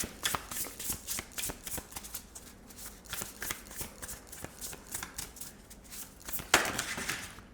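Tarot cards being shuffled by hand in a fast, continuous run of crisp riffling flicks, close and fairly quiet, with a louder burst near the end.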